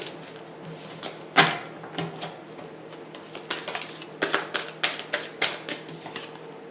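Tarot cards from an intuition deck laid out on a table: one sharp slap, then a quiet, uneven series of soft taps and flicks as more cards go down.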